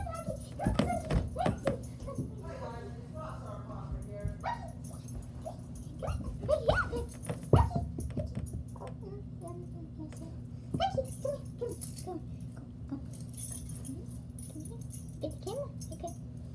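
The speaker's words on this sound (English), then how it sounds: "The dog's starting to bark." A dog whimpers and gives short yips in a room, intermittent whines and sharp bursts over a steady low hum, fairly close, with occasional faint jangling.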